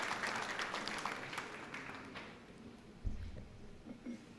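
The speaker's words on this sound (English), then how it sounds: "A big round of applause for him." Audience applause for a speaker at an alumni panel discussion, dense clapping that is strongest at first, then thins and fades, heard from a little way off.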